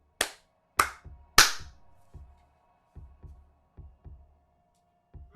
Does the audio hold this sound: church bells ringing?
no